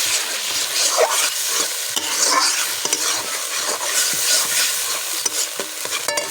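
Spice mixture with mustard paste for an amra chutney stirred and fried in a pan, a continuous close sizzle broken by scraping strokes of the spoon, with no talking.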